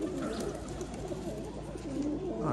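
Pigeons at a Rajshahi-area pigeon farm loft coo steadily and close by, with a layered, continuous murmur of calls and some flutter throughout.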